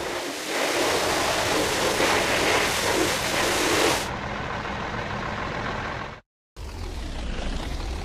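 A bus in a driving simulator game passes through a car wash, with a loud steady rush of spraying water and brushes that eases into a lighter hiss, then a brief silence before the watery wash noise resumes.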